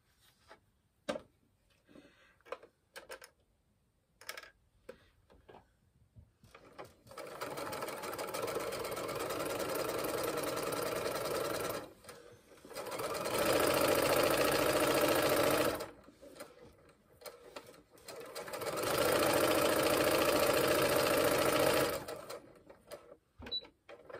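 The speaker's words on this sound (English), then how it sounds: "It's just three bits of fabric that I have to machine down." A sewing machine stitches fabric headbands in three long, steady whirring runs, loud and close, with brief pauses and small handling clicks before and between them.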